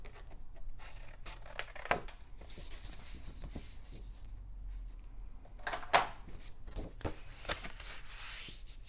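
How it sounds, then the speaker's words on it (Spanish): Scissors cutting paper for a scrapbook project, heard as a series of soft close snips and rustling paper scrapes in an irregular rhythm, with a couple of sharper crunchy cuts. "pues aquí con las tijeras voy a cortar"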